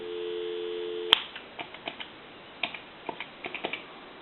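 A repaired telephone: a steady dial tone cuts off with a sharp snap of the hook switch, followed by a run of small, irregular dialing clicks, close up and fairly quiet.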